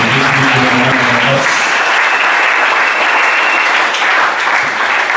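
A church congregation claps loudly and steadily, a dense unbroken wash of applause after a spiritual-warfare sermon, with a brief murmur of voices at the start.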